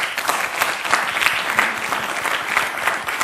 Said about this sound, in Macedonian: Ве молам еден голем аплауз